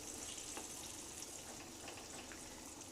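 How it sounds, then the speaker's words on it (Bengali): Steady, close hissing sizzle from a pot of village-style Bengali chicken curry over a high gas flame just after about a cup of water is poured in, continuous and even with no talking. "1 কাপ মতো জল দিলাম"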